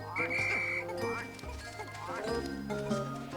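A frog in the video game Pikmin 3 gives several deep, rattling croaks in quick succession, close and fairly loud, layered over the game's tonal music and effects, with no speech over them.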